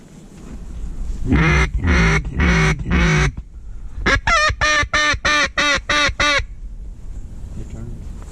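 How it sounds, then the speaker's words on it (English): A run of loud honking duck quacks at a pond during a duck hunt, first four slow calls and then a quicker series of about eight, nearby over a low outdoor rumble. "Ducks."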